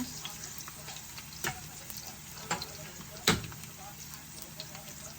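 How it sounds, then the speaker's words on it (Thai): Fried snakehead fish is stir-fried in a pan with aromatics, giving a steady close sizzle, with a few sharp spatula scrapes and clanks against the pan. "เราจะเอาปลาลงก่อนนะคะ ลงผัด กับเครื่อง"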